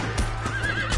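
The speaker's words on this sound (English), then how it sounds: "Looks like Carlos left us some horses" A horse in the video game Red Dead Redemption gives a clear neigh over a low rumbling game background, with a few hoof clops around it.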